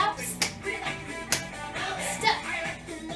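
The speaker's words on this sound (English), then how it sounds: "2 claps." Two sharp hand claps land over upbeat pop music during a dance routine to a song from Madagascar, with several other crisp claps and taps scattered through the beat.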